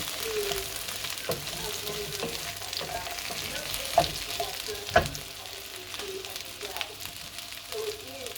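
Chopped carrot sizzles and frys in a pot while being stirred, with a steady crackling hiss and a couple of louder scrapes of the spoon against the pot.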